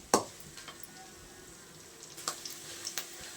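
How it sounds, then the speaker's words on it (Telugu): Onions fry in a pan for potato curry as a quiet, steady sizzle close by, broken by a few sharp clinks and light stirring taps. "ఇంకొక 5 మినిట్స్ బ్రౌన్ కలర్, అంటే ఎక్కువ బ్రౌన్ కాదు, లైట్ బ్రౌన్ కలర్ వచ్చేంత వరకు వేయించుకోవాలి."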